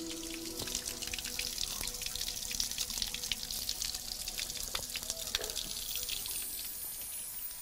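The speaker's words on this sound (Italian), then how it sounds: "quest'acqua termale che sgorga spontaneamente dalla roccia" Hot thermal spring water flows out of rock at the Nitrodi source, a continuous close trickle and splash with scattered drips.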